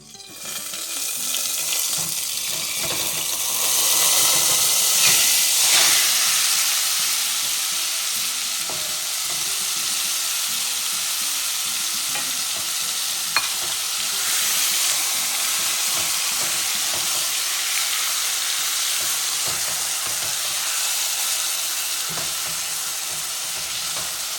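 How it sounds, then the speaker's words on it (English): Chunks of meat sauté in a pot for aloo gosht korma, giving a steady, fairly loud sizzle and hiss that carries on throughout, with an occasional stir or clink and no talking. "We are going to saute meat for a little while"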